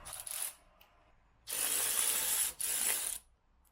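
A socket ratchet loosens 10mm bolts on a Peugeot 107 scuttle tray, giving a short ratcheting burst followed by two longer, loud close-up runs of rapid clicking with a brief pause between them.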